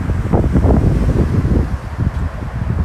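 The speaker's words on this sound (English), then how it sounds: "as you can see, the wind is still strong" Strong wind blows outdoors near a fallen tree beside condos, producing a loud, rough, continuous roar with gusty buffeting and heavy microphone rumble throughout, no voices.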